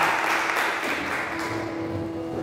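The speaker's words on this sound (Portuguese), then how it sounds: "Aplauda o nome do Senhor" A church congregation applauds in a dense, steady wash of clapping that fills the whole stretch, with a faint sustained tone underneath.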